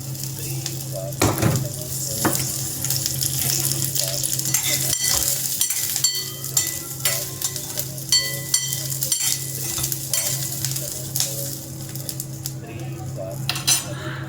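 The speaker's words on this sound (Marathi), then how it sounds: "थोडं तेल टाकूया मिरची भाजताना." Chillies frying in a little oil, a loud steady sizzle layered with repeated clinks and scrapes of a utensil stirring in the pan, with a faint voice at times.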